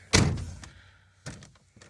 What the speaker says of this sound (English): This one, the door is closed.